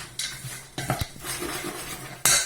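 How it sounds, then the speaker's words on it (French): Chopped dried fruits tossed with a spoonful of flour in a bowl: a spoon clinks and scrapes against the dish in irregular knocks and rustling stirs, close by and without talk. "je mets une cuillère de farine, je mélange tout ça"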